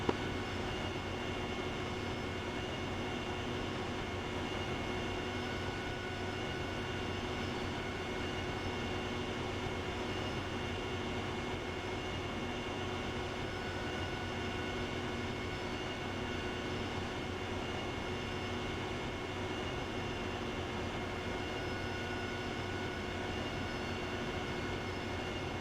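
A military aircraft engine drones steadily with the throttle eased back during night close air support training, a constant broadband roar with tonal hum that stays loud and unbroken throughout, with no voices.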